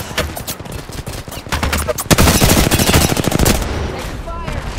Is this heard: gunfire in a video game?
yes